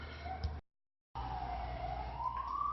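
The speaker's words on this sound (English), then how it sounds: "Hear a siren?" A siren wails with a slowly shifting tone, broken by a brief silent gap partway through, steady and moderately loud.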